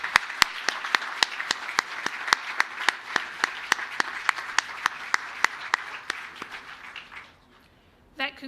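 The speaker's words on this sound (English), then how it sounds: "can we please keep the applause going for Emma McCaskill" Audience applause at a 2021 SACE merit ceremony, rendered as a loose, sparse patter of clapping with sharp individual claps standing out, steady for about seven seconds before thinning out and stopping.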